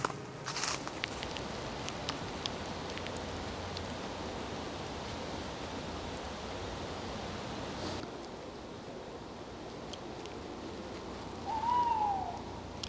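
A tawny owl calls from the trees, faint and distant, over a soft outdoor hiss with light rustling and a few brief knocks.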